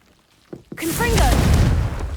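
In Hogwarts Legacy, a Confringo blasting spell bursts after a couple of short clicks, erupting into a loud, close, sustained roar of explosion with crackling, swirling fiery tones layered on top.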